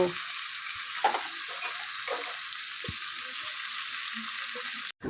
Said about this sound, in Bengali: এখন আমি মাংসের মশলাটা কষিয়ে নিয়েছি আর এখন আমি দিয়ে দিচ্ছি মাংস